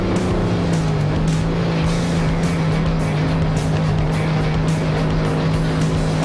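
A pulling tractor powered by a 1,150 cubic inch Cummins KT 450 diesel roars continuously at full power, loud and close, with a dense rumbling drone at a steady pitch during a tractor and truck pull in Goshen, Indiana.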